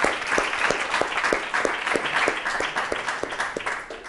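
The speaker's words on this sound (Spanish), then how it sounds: "todos los coautores del libro se merecen un buen aplauso" Applause from a conference audience in Tenerife honoring a book's coauthors, with steady clapping across the hall that holds moderately loud for about four seconds and carries no talk over it.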